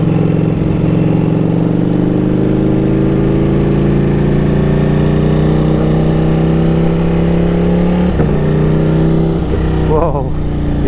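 Ducati Streetfighter V4S motorcycle in race mode, its engine droning steadily and climbing in pitch as it accelerates, loud and close for most of the run, then a few sharp revs and gear shifts near the end.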